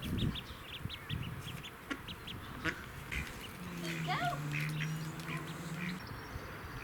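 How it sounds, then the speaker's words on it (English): Ducks in a garden give a few short quacks and clucking calls at mid distance, outdoors with faint background noise and a murmur of nearby voices. "there was a family of ducks visiting the garden, so we went to feed them some porridge oats"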